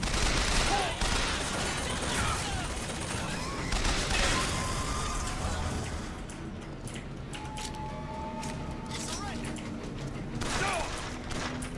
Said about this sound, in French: Qui me tire dessus là?